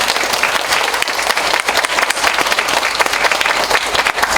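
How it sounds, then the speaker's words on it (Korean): An audience at an academic society conference applauds to thank the staff, with dense, lively clapping from many hands, loud and sustained throughout with a faint crowd murmur underneath. "우리 여러 선생님들께 감사의 박수 부탁드립니다"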